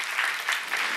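Church congregation applauding during a Korean Genesis seminar sermon, a short dense burst of clapping with rhythmic swells, moderately close, no voices.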